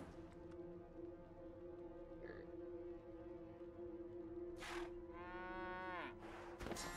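A cow in Divinity: Original Sin II gives a drawn-out moo over a steady droning hum, with brief bursts of noise before and after it.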